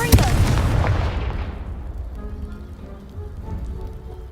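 A Confringo blast spell detonates in a video game, a loud explosive boom at the start with a crackling, debris-like rumble that decays over several seconds.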